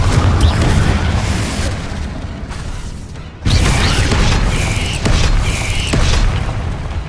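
Booming blasts from a Confringo fire spell in the Hogwarts Legacy video game, loud and dense, with a rumbling, crackling burst that briefly cuts out near the middle before another sustained blast of debris and roaring noise.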